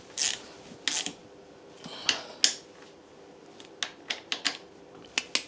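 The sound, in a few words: wrench tightening fork bolts on a Honda 50 motorcycle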